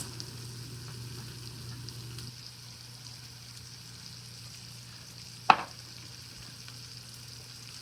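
Onions fry in a pan for pork tacos, a soft continuous sizzle at low volume, interrupted once by a sharp clink of a utensil partway through.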